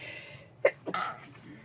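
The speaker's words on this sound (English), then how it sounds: "Okay, I'm going to sneeze." A single short, sharp sneeze bursts out close by, with a quick intake of breath just before it.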